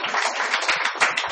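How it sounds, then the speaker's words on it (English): A crowd at a political campaign event claps in a brief, dense burst of applause that stays steady and close throughout. "Let's give her another round of applause."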